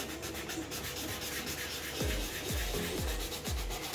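Faint steady rubbing of 220 grit sandpaper on a Captain Rex Phase 2 armor helmet, a continuous soft scratchy hiss with a few low thumps near the end.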